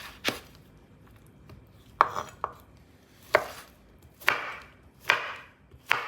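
A knife chops guanciale with its rind removed on a board, six or seven sharp, separate strikes at an uneven pace, close and fairly loud, with no talk.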